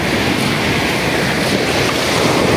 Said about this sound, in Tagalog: ayan po at maalon na masyado.